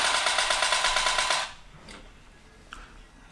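Rapid automatic gunfire in a mobile shooter game played on a Samsung Galaxy phone, a dense rattling burst for about a second and a half that cuts off, followed by faint distant shots.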